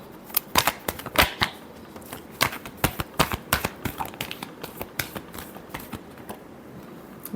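A deck of tarot cards is shuffled by hand in a long overhand shuffle, giving a rapid run of crisp, papery slaps and flutters close up. The bursts come in irregular quick succession and taper off toward the end.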